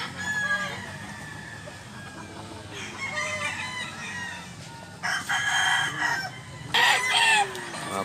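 Gamecocks kept for sale cluck and crow close by, several birds calling in bursts over low background noise, with a loud rooster crow near the end.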